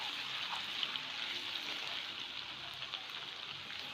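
Water, a cup of it, poured into a cooking pan of chicken Manchurian gravy, giving a steady hissing, splashing wash that runs evenly through the whole stretch at moderate level with no talk.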